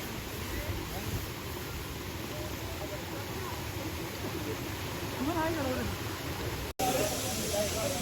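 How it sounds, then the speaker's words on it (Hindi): Dhani Waterfall in Neelum Valley roars as a continuous broadband rush of falling water, steady and loud throughout, with someone talking over it partway through. "हम इस वक्त मौजूद हैं धानी वाटरफॉल पे"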